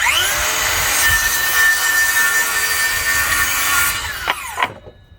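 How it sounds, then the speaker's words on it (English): A handheld circular saw cuts through wood boards, three stacked at once with the blade set deeper, a loud steady whine with a bright tonal ring that runs for about four seconds before spinning down with a few trailing clunks. "Using our skill saw, we're going to make another cut."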